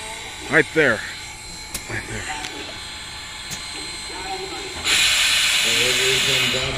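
Southern 4501, a Mikado steam locomotive, gives off a steady broad hiss of escaping steam that swells louder partway through. Someone talks over the quieter opening, and there are scattered clanks.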